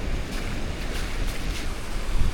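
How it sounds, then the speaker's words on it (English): Sea waves wash in over a sandbar at Hideaway Island, Vanuatu, with the incoming tide, a continuous surf hiss broken by soft splashing bursts, mixed with gusting wind on the microphone. "Oh, the sea is definitely coming in"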